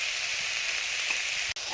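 Mustard oil sizzling in a frying pan, a steady close hiss running the whole time with no voices.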